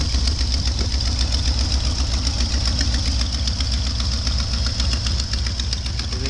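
Ford F-250 pickup engine idling while warming up in snow, a loud, close, steady rumble with a fast, even ticking pulse and no talking over it.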